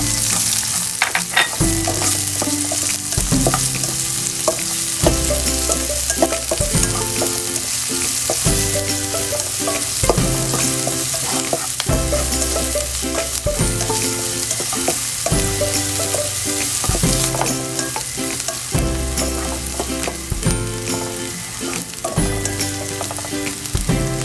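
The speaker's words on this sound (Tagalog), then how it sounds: "Hintayin natin na mag-brown yung bawang. Lunod natin yung sibuyas." Garlic and onion fry in a pan for bamboo shoot adobo, a constant close sizzle broken by regular knocks and scrapes of stirring, with no voices over it.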